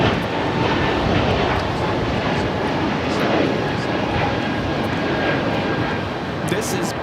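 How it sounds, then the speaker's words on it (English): A Breeze Airways Airbus A220-300 takes off at Los Angeles LAX, a steady, loud jet roar filling the whole stretch with little change, while voices talk over it. "This is Breeze Airways Moxie 707 taking off to Jacksonville on the A220-300."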